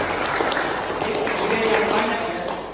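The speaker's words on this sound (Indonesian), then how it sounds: "Tepuk tangan" A university teaching-session audience applauds in a thick, continuous burst of clapping with voices mixed in underneath.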